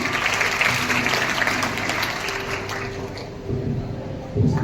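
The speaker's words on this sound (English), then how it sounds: "Please welcome her with a big round of applause." A school audience applauds at an Independence Day celebration, broad continuous clapping that fades somewhat toward the end before a brief louder burst, with some hall noise.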